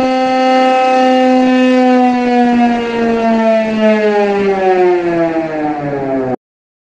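A single-pace Tucano alarm siren gives one loud, steady, harmonic-rich wail that slowly drops in pitch over about six seconds before cutting off abruptly.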